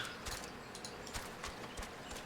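Horse hooves clip-clop in the Final Fantasy XIV video game, a faint, quick series of hoofbeats in a loose walking rhythm over soft background ambience.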